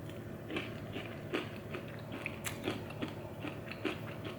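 Crunchy chocolate cereal in chocolate milk is chewed close up, with repeated crisp bites and crunches in a steady rhythm over a low background hum.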